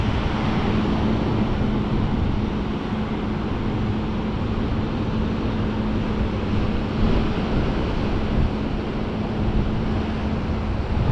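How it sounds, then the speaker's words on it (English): Rough ocean surf pounding a beach the day after Hurricane Ian, heard as a steady, dense roar of crashing waves mixed with gusty wind noise on the microphone, continuous and loud with no voices. "Still some rough waves."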